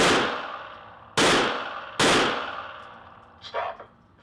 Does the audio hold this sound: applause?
no